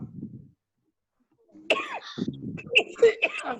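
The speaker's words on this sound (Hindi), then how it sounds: "खांसी की ये प्रॉब्लम है हमारे सामने सर" A brief burst of coughing opens, then silence, followed by a voice speaking with some throaty, cough-like sounds mixed in.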